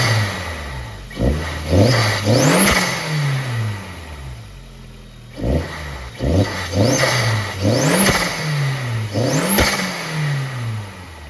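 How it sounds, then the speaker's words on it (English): A 1.8T turbo engine in a Volkswagen Rabbit pickup fitted with underdrive pulleys, revved up in repeated sharp bursts that rise and fall back to idle, close and loud, with a faint turbo whistle on each climb. "so I'll give you guys some revs"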